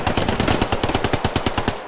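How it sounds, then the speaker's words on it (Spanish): An MG machine gun in the World War II shooter Hell Let Loose fires a steady, rapid burst of loud, evenly spaced shots lasting about two seconds, close and alone with no talk. "Es un MG."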